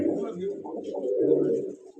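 Pigeons of a pure-bred Fauji line coo steadily in a low, throaty burble, close and fairly loud, with overlapping calls filling the whole stretch.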